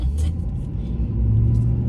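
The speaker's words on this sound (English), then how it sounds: "We gotta hide the truck." A pickup truck engine rumbles low and steady for a couple of seconds, a continuous close drone with slight swells as the truck is moved, no talking over it.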